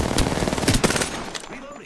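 Rapid machine-gun fire in a shooter game's drill site battle, loud close bursts that fade out toward the end, followed by a brief voice.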